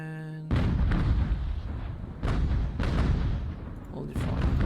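Sailing-ship cannons boom in a naval battle in the video game Ultimate Admiral: Age of Sail, firing as repeated heavy blasts several times with rumbling decay between shots.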